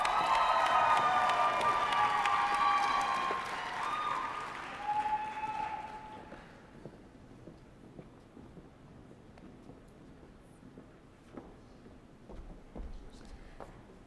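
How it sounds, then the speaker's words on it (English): A medical school commencement audience applauds. Loud, dense clapping and some cheering carry on for about five seconds, then fade into quiet room noise with faint stray claps. "Hold your applause for Wei Ying."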